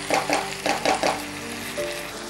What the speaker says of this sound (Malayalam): ഇത് നമ്മൾ കുറച്ച് നേരം അടുപ്പിലിട്ടിങ്ങനെ ഇളക്കി കൊടുക്കും